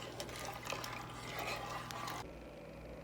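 Vinegar and oil pour into a pot of boiling water for pickled peppers, a faint, steady liquid splash and trickle up close that cuts off abruptly partway through.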